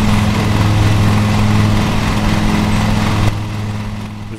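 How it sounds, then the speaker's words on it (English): A lawn mower engine in the video game Lawn Mowing Simulator drones steadily with a low hum, then drops somewhat quieter near the end; no voices. "today we're playing fucking Lawnmower Simulator"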